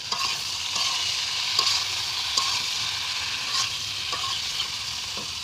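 A spoon mixes cumin, coriander and chili powder with water, making repeated light scraping taps in a steady rhythm over a constant soft sizzling hiss.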